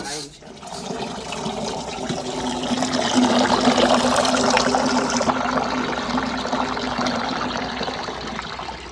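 Water running into a container in a home kitchen, a steady broadband rush that swells and holds for several seconds, fairly close and loud, with faint background voices.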